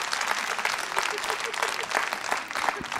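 A gala audience applauds, with dense, steady clapping from many hands filling the whole stretch and a voice briefly audible beneath it.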